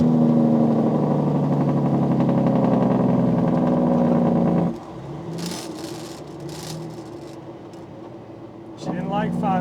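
A Peterbilt 379 truck engine with a 13-speed gearbox runs loud and steady, then drops sharply mid-clip as the driver downshifts, and the revs climb again near the end.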